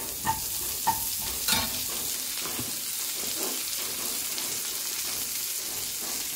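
Shrimp and green chilli fry and sizzle in a pan while being stirred, a steady hiss with a few sharp clacks and scrapes of the spoon near the start, no voices.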